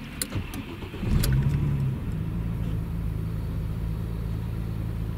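An Audi A4 V6 quattro that has stood overnight is started: a short cranking burst catches, then the engine settles into a steady, low idle rumble close by, with no talking.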